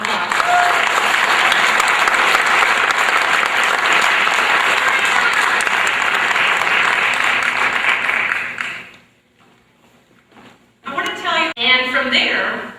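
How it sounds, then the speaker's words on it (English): An audience at a 2006 high school Project Ignition banquet applauds the students with loud, sustained clapping for about eight seconds, then it fades away and a voice starts speaking. "So let's give them a great round of applause."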